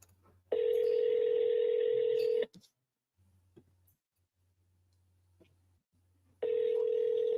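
A phone call rings out: a steady electronic ringback tone sounds for about two seconds, a long quiet gap with faint clicks follows, then the tone returns.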